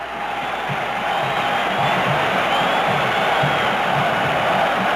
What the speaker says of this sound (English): listen to this crowd at Notre Dame now